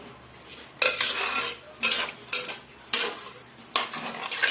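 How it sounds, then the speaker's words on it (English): A spoon stirs chicken curry in a cooking pot, giving repeated scraping, clinking strokes of metal against the pot in four distinct bursts, fairly close and alone. "Give it a good stir until all well blended"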